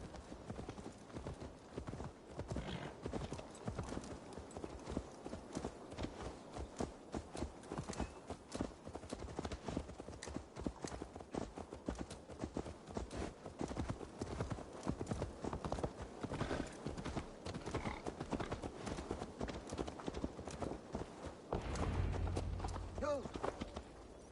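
Horse hooves clip-clopping steadily on the ground in the video game Assassin's Creed Valhalla, a continuous fast rhythmic patter of hoofbeats at close range under faint game ambience.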